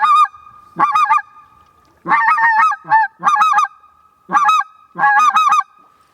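A person imitates a white-fronted goose with a honking caller, six loud bursts of two- and three-note honks separated by short pauses, close and clear.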